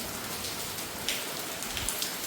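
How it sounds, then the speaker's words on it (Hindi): A downpour of hard rain drums on surfaces in a constant wash of noise, with a few sharper nearby drips standing out, no speech. "पूरी तेज बारिश है।"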